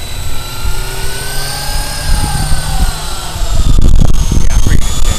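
A Walkera Lama 3 remote-control helicopter flies on a windy day, its rotors and motor making a steady high whine with shifting pitch, close and loud, over wind rumble that surges near the end, with voices talking.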